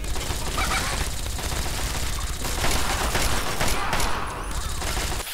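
Gunfire from a Chinese assault rifle in the video game Fallout 3, fighting raiders: loud, continuous bursts of automatic shots filling the whole stretch, with scattered impacts mixed in.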